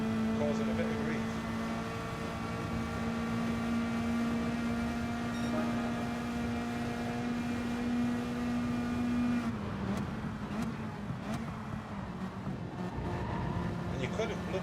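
Race car engines in Gran Turismo 7 daily online racing, a steady loud engine drone holding one pitch for several seconds before dropping and becoming rougher, with a commentator talking over it.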